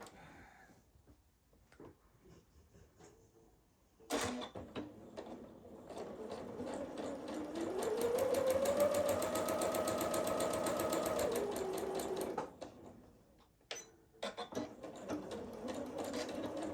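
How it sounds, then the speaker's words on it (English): A sewing machine stitches quilt mitten pieces for a snowman quilt, starting with a sharp mechanical clunk and building to a steady, fast whirring run of about five seconds before slowing to a stop, followed by a couple of clicks. "we need to take the bottom part and we're going to lay it here and we're going to sew it."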